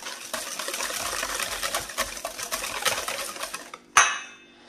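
A spoon stirs melted butter and sugar in a bowl for a French apple cake, giving a steady run of soft scrapes and clinks, then one sharper clink of utensil on the bowl near the end.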